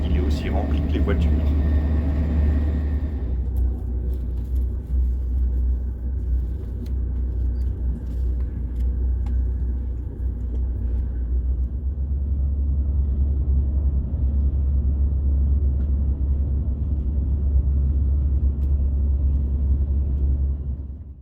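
Deep, steady rumble inside a TGV high-speed train carriage, loud low-frequency drone that continues throughout, with a brief burst of brighter noise at the start.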